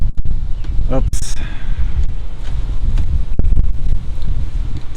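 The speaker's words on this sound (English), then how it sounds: "It's a little windy today" Gusty wind buffets a microphone outdoors at a guest house, a loud steady low rumble with rustling, a few brief clicks and thumps scattered through it.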